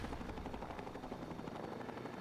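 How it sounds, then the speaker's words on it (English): Helicopter in the video game Fallout 3, a dense continuous rotor thrum with a rapid beating pulse, steady and fairly loud throughout with no talk over it. "Oh, helicopter."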